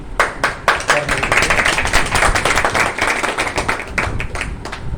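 An audience claps together in a brisk burst of dense applause with sharp individual hand claps standing out, loud and sustained throughout.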